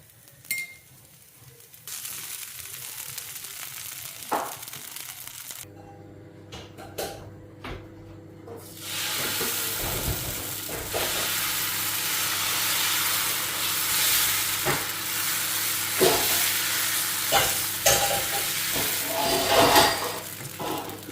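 Dosa cooking on a hot pan makes a broad, steady hiss and sizzle that swells after a quieter start, with occasional light metallic clinks and scrapes close by.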